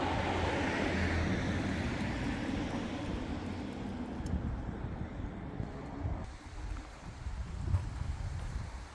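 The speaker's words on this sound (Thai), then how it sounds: "ลมก็เริ่ม เออ พัดมาแล้วเนาะ" Wind gusting steadily around a small village, a broad rushing roar that stays loud and close for the whole stretch, easing slightly partway through before swelling again.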